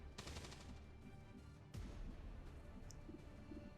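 Gunfire from XCOM 2: War of the Chosen, with a burst of rapid shots at the start followed by a loud single blast near 1.7 seconds and scattered quieter impacts over a rumbling combat backdrop.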